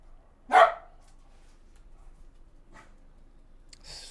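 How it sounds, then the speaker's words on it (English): A single loud, close dog bark rings out against a quiet room, followed by a faint second yelp and a brief rustle near the end. "Freaking dog."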